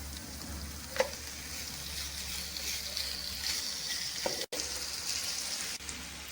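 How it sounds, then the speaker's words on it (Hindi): Chicken pieces frying in oil with ginger and garlic, a steady close sizzle throughout with a few soft stirring scrapes and clinks. "अदरक और लहसुन को फ्राई करने के बाद अब इसमें चिकन डाल लेंगे"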